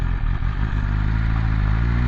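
BMW S1000RR motorcycle engine droning loud and steady while riding, a constant buzzing mechanical roar mixed with rushing wind, with no speech.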